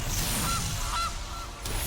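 Goose honks sound in the Magic: The Gathering digital card game as the Gilded Goose card is played, three short clear calls rising from faint game background with no talking.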